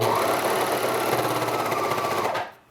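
A serger sews through layered cloth mask fabric with a loud, continuous fast mechanical whir and knocking rhythm, close up, before winding down and stopping at the end.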